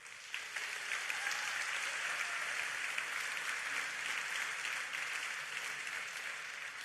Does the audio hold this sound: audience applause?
yes